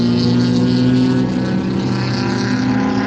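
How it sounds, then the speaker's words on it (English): A Chevrolet Corvette C5 race car at an SCCA race gives a loud, steady engine drone that holds a nearly constant pitch for the whole stretch, with no talking over it. "One of the Corvettes. The C5."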